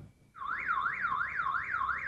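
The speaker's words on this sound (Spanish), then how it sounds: "Con solo un vecino que apriete su botón de pánico, las alarmas comienzan a sonar" A community alarm in a neighbourhood of Viña del Mar, Chile, starts abruptly and wails in a loud, steady rising-and-falling siren sweep that repeats evenly, heard alone and up close.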